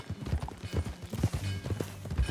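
Horse hooves in Red Dead Redemption 2 clip-clop in a steady, rhythmic gait, moderately close, with a faint snort or whinny mixed in and no speech.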